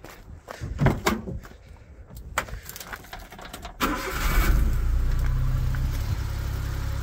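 A 1995 Suzuki Carry 4x4 mini truck cranks and starts after a few knocks and clicks, then settles into a steady, fairly loud idle that runs on evenly to the end.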